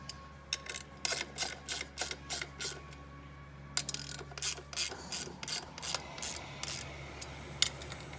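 Screws being tightened on a Cazaux Oenoflex 200 wine pump during a rotor and impeller repair, giving a steady run of close, dry ratcheting clicks in evenly spaced bursts, with a short pause midway.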